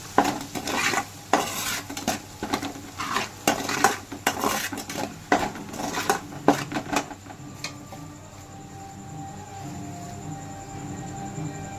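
A spoon scrapes and clatters around a pan as garlic paste fries in oil for a fish pickle, with repeated sharp metallic stirring strokes for several seconds, then a steady soft sizzle alone.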